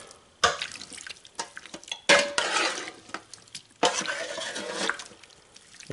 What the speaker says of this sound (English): I'm going to go ahead and just give this a stir.